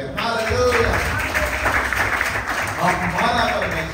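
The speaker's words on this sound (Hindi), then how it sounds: "ताली बजा प्रभु के लिए" A church congregation at a Sunday sermon claps together for a few seconds, moderately loud and sustained, with some voices mixed in.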